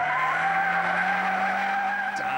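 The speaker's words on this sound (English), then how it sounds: "Does a lot of wheel spin through there." A car spins its wheels hard on a race track, a loud, steady engine drone layered with a tire-skidding hiss that holds without a break for the whole stretch, with no voices.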